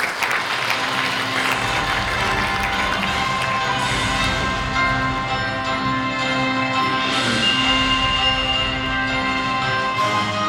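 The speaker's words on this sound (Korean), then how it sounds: "큰 박수 부탁드립니다." Sustained audience applause fills a drone sports and entertainment conference hall as a Pohang University professor is welcomed to the stage, a steady dense wash of clapping mixed with background music throughout.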